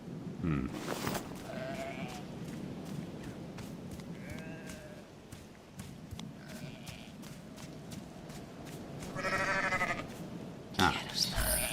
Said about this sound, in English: I thought I heard sheep noises